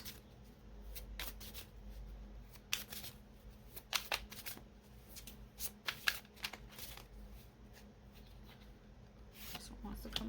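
A deck of cards being shuffled and handled close up, with quiet riffles and sharp flicks at irregular intervals under soft talk.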